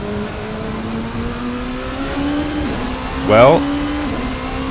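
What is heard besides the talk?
Revenga (Rebellion) R13 LMP car engine in Assetto Corsa video game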